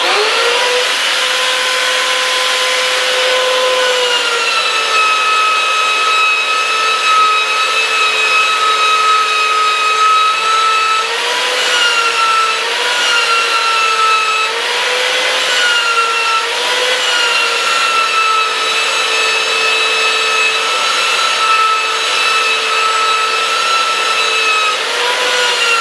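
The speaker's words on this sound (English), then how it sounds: "So now I'm going to use my 80 grit and I'll finish it up." Sanding wood by hand with 80 grit sandpaper: a loud, steady abrasive rasp that runs without pause, its pitch wavering slightly with the strokes, close up and with no talk.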